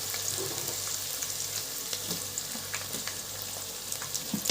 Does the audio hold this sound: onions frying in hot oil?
yes